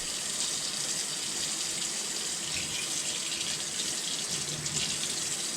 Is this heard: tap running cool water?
yes